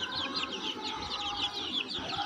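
Young chicks inside a small coop cluck and peep continuously, a dense overlapping chorus of high chirps close by with no voices.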